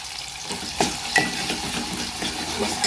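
Tomatoes sauté in oil in a pan for a home-style Maharashtrian dal, a close continuous sizzle broken by a few clicks of a spoon stirring against the metal.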